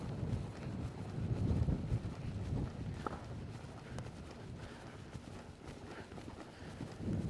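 A horse lopes during real-time riding training, its hooves clip-clopping in a steady rhythmic beat, slightly distant and faint under gusty wind noise.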